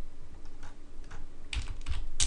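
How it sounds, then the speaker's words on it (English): Computer keyboard keys are tapped during 3D modelling work, soft near clicks at first and then a few sharper, louder keystrokes toward the end. "move that into place using my keyboard"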